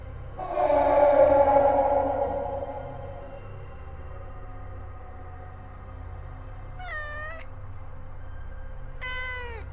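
A cat lets out a long, loud drawn-out meow, followed by two short, faint, high chirping cries in a quiet room.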